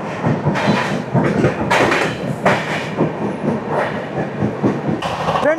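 The Mysore Howrah Superfast Express, train 12504, runs near Nellore, its loud rolling rumble and clattering wheels heard close up from on board, with sharp bursts of rattling and a faint squeal.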